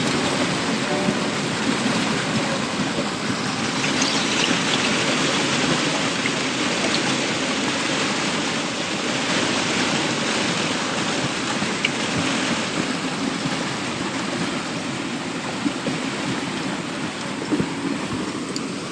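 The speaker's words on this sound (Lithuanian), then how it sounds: "Va, čia toks upeliukas teka." A steady, continuous rush of flowing water fills the clip, a small mountain stream in the Slovak Tatras babbling close by, with no voices.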